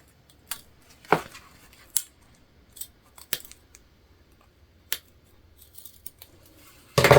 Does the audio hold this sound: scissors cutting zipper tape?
yes